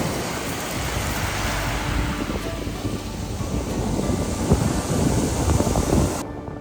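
Waves recede over beach pebbles at low tide on the west coast of Vancouver Island, a continuous gritty rattling hiss, swelling and easing, mixed with wind rumble.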